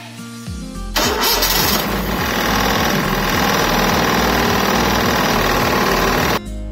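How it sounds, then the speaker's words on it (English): A Maruti 800 car engine cranks briefly with rapid starter whirring, catches, and settles into a loud, steady idle with a rhythmic low throb that runs for several seconds before cutting off. "So let's crank the engine and let it idle for a minute and check the oil level again."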